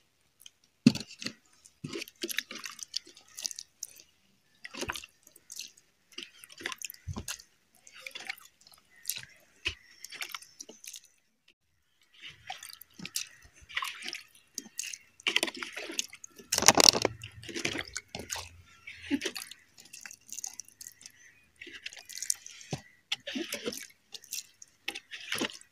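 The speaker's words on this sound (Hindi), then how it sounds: "और अब हम इसमें पानी डालेंगे।" Water poured from above onto soil in a plastic grow bag planted with potatoes, heard as scattered drips and patters that swell into a brief heavier splash before thinning back to sparse droplets.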